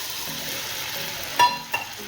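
Tamarind water goes into a frying fish curry masala for a Tamil Nadu style fish kulambu, giving a soft continuous sizzle with two brief splashy bursts as the liquid hits the hot pan.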